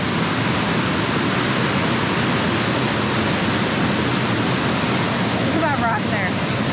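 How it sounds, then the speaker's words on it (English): A waterfall by a creek pours as a steady, loud, broadband roar that stays constant from start to finish. "we didn't know that there was a waterfall this way."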